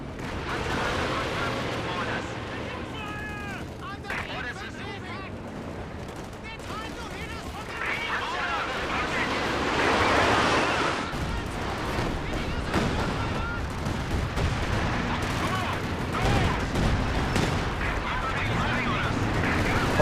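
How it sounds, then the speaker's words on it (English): Booming artillery fire and scattered gunfire in the video game Company of Heroes 2, with heavy blasts rolling on through the battle and a player talking over them. "Artillery fire here."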